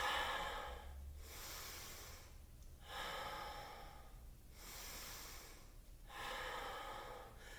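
Slow, deep breaths are drawn in and pushed out during a yoga flow class, about four full cycles with audible airy inhales and exhales, close and fairly quiet, with no talking.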